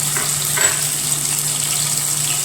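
Crushed green chili sizzling in hot coconut oil in a pan, a steady close-up frying hiss throughout with a brief stir partway, no talk.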